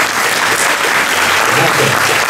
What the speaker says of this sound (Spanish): Pido un fuerte aplauso para ellos, por favor.